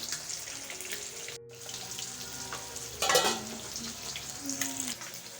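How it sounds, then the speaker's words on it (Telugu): Fish pieces marinated with salt, chili, lemon, ginger and garlic fry in a pan at home, a soft continuous sizzle with a brief louder burst of splashing and stirring midway. "సండే ఫిష్ అనమాట ఇక్కడ ఫ్రై చేస్తున్నా"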